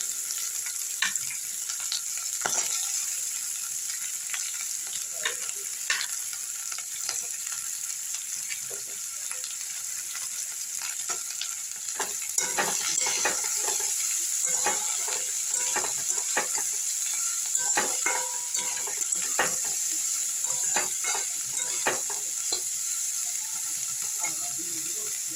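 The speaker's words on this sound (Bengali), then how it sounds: "বিনস কড়াই গাজরটা একটু ভেজে নেবো লাল করে।" Beans, peas and carrots fry in mustard oil with a steady, moderate sizzle, punctuated by frequent scraping stirs over a long stretch.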